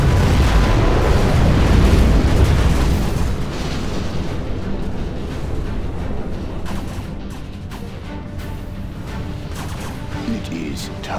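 A nuclear missile explosion in Command & Conquer: Generals Zero Hour: a massive rumbling blast roars out at once, then decays into a long, crackling rumble that fades slowly with scattered debris-like pops.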